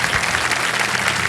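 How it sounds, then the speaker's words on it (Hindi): A studio audience on a quiz game show claps after a correct answer, giving a short burst of thick, continuous applause at full volume. "ताली बज गई"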